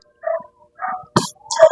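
A dog barks in a Filipino children's story lesson, giving four short, close yips and barks spaced evenly across the moment, with silence between each.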